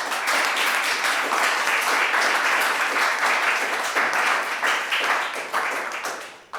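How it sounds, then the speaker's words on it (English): Energetic applause from a conference audience at a fintech event panel, dense rapid clapping held steady and loud for several seconds before tapering off at the end. "please give a huge hand of applause to our panelists"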